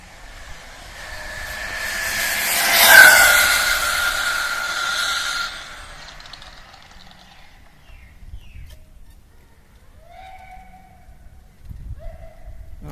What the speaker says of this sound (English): the pinion gear has obviously come off, so you can hear that